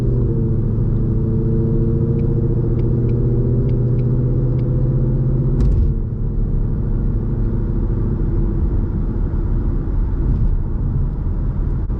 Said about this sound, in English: how relaxing and serene it is to just cruise around with no music, just listening to the exhaust and stuff